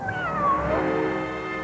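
A cat meows in a television promo, a drawn-out, rising-then-falling cry heard up close and alone for under two seconds over a steady low background.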